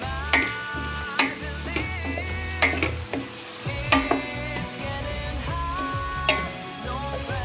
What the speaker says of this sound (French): On essaie de faire revenir un petit peu l'oignon avec les épices.